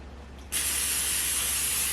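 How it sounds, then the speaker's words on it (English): After half a second of quiet room tone, a loud steady hiss of canola oil aerosol spray starts abruptly and continues, close by, coating the inside of a baking pan. "use our canola oil to spray the inside of our pan"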